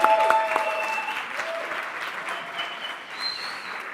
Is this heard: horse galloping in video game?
no